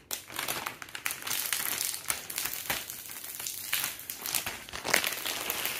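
Protective plastic film is peeled off a curved Samsung Odyssey Neo G9 gaming monitor, giving a close, continuous crinkling and crackling with brief tearing bursts.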